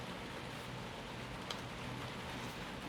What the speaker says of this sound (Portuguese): Barulhinho de chuva, né?